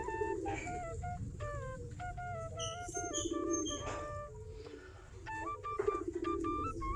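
Birds chirp and whistle in quick melodic bursts, with soft low cooing from Giribaj pigeons feeding underneath, heard faintly at a moderate distance.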